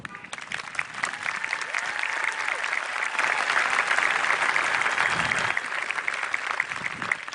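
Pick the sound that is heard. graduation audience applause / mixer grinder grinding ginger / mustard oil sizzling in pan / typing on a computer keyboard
graduation audience applause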